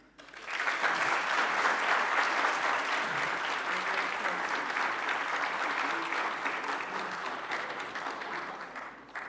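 An audience at an inaugural university lecture in a faculty of dentistry claps loudly and steadily for about nine seconds, the applause fading slightly toward the end.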